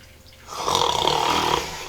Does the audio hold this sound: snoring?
yes